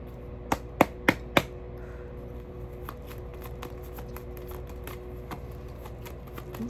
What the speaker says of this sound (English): I'm shuffling really long.